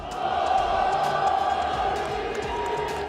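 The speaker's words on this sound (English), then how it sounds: "a hockey crowd roars with pride" A hockey arena crowd roars with pride, a steady, sustained wall of cheering voices heard from within the stands, loud and unbroken for a few seconds.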